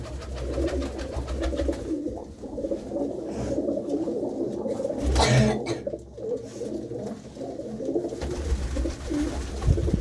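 A pigeon coos in repeated low, soft throaty calls, close by, with a brief flutter or rustle near the middle.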